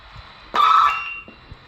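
A CB radio on SSB lets out a single loud, piercing tonal squeal lasting about half a second, fading out over faint static with a couple of soft clicks afterward.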